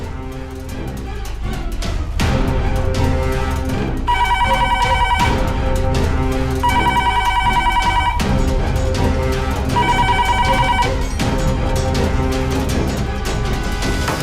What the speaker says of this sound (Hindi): कौन फोन कर रहा है बार बार?